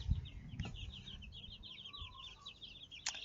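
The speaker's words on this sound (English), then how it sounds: "These are the chicks" Young chickens give a rapid stream of soft, high peeps, faint and a little distant, with light rustling and a few bumps underneath.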